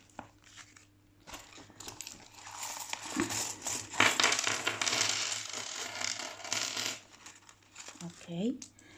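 Money emptied out of a budget savings envelope, with coins clinking and paper crinkling in a busy jangle that peaks midway, near and moderately quiet, and a voice briefly at the end.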